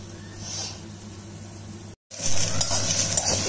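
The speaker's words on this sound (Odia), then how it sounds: "ତାକୁ ଟିକେ ଆମେ ଭାଜିବା ପାଇଁ ଦେବା" Onions and garlic sizzle and hiss in a pan as they fry over the heat, a steady close crackle that drops out for a moment and then returns louder, with faint stirring.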